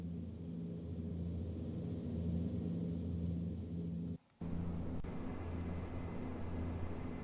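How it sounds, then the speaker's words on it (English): A steady, droning airplane engine in the Prepar3D flight simulator, holding a constant low hum with tonal bands, broken by one brief dropout to near silence before resuming at the same level. "Love the sound of this plane."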